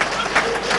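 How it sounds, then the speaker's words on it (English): A short burst of dense audience applause at an office-space inauguration event attended by a minister, steady and broadband throughout under a faint voice. "See, the applause tells you."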